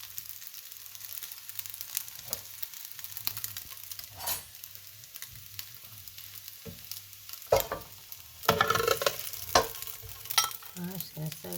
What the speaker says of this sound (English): We're just going to give this a proper mix.